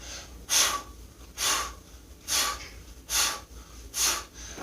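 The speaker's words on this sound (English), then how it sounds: "breathing out hard every time we get to the top of that circle" Hard, forceful exhales during a deep core exercise, five breathy bursts spaced about a second apart in a steady rhythm, close and alone with no talking.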